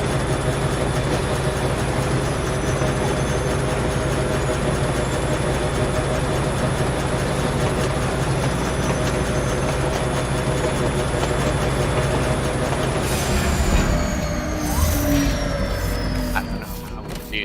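A train rolls steadily along its track in the factory-building video game Foundry, a continuous rumbling drone with faint clatter that holds for most of the stretch before thinning out near the end.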